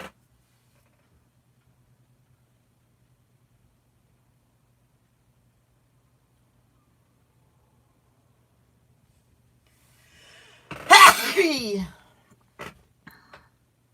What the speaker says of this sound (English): See, I'm getting ready to sneeze.